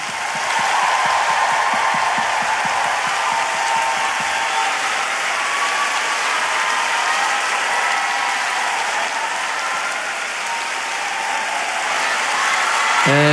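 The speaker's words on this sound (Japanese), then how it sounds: "多くの拍手をお願いします。" Concert audience at a solo pop concert applauding, a loud, steady wash of clapping that fills the whole stretch with no talk over it.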